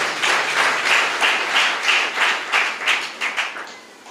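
An audience at a Telugu Christian sermon clapping together, a loud, close burst of rhythmic applause lasting several seconds and slowly tapering off, with no talking.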